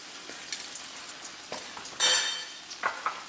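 Garlic frying in a pan for a chicken and vegetable stir fry, a soft steady sizzle with scattered scrapes and taps of a utensil and one louder burst of crackling.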